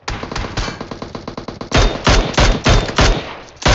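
Rapid automatic gunfire from PUBG Mobile, loud and close, a fast burst of shots followed by several heavier, spaced single shots, with no talking.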